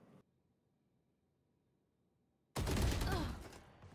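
Gunfire from a Valorant collegiate playoff match: after near silence, a sudden loud, dense burst of shots erupts and carries on for over a second before tailing off.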